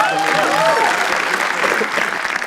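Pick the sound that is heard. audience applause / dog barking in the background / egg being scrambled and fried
audience applause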